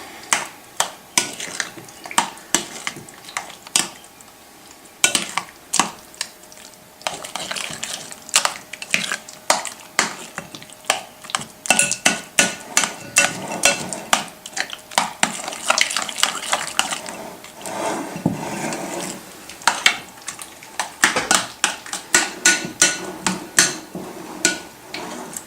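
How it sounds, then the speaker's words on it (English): A utensil stirs and beats Philadelphia cream cheese in a bowl with a dense run of quick, sharp clicking taps that keeps up without a break, close and fairly loud, with no talking. "Let me get all that mixed real well."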